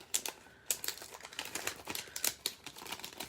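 Lining peeled away from an infusible ink transfer sheet by hand, giving a run of close, crisp crackles and small ticking snaps in uneven bursts, with no voice over it.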